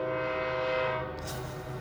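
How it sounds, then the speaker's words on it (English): A train passes close outside an apartment building, its horn blaring in a long sustained chord that cuts off partway through while the rumble of the cars continues. "I'm going to speak over this train that's outside."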